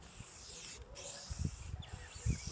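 Aerosol can of Plasti Dip spraying onto the roof of an Opel Coupe Turbo, a steady close hiss in short bursts with brief pauses and some low handling knocks.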